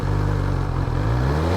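A BMW S1000XR four-cylinder sports tourer with keyless ignition fires up into a loud, steady idle, its deep engine drone holding close and continuous with a brief dip midway.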